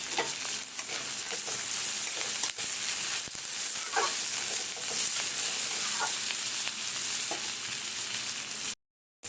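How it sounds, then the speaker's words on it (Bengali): Onion with cumin seeds frying in leftover potato-frying oil, a steady broadband sizzle and crackle with a few sharper pops and stirring scrapes, close and continuous with no talk. "আলু ভাজার তেলেই করছি আমি। পেঁয়াজটা একটু হয়ে এসছে, এইবারে দেবো জিরে"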